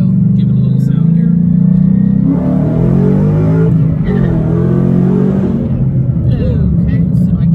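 Loud engine of a 2011 Mustang GT Premium 6-speed revving up with a throaty, rising rumble, heard close by, with a voice talking over it.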